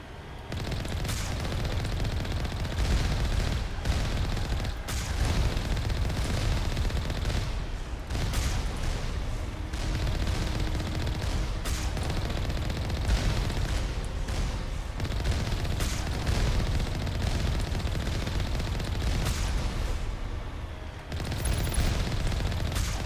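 Heavy turrets fire in a sci-fi shooter game, a dense run of booming, rapid shots and blasts that carries on almost without pause, loud and close, with a brief lull near the end.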